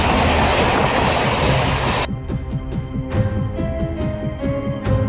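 Vaigai Express passenger train rolling past a railway platform, a loud broadband rush for the first two seconds, then rhythmic clickety-clack of wheels over rail joints with sharp repeated clanks, close and continuous.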